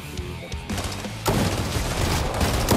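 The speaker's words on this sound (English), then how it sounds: "I hear like shots." Gunfire rings out in Fortnite, with a few scattered shots at first and then a dense, loud burst of rapid shots and booms filling the remaining seconds.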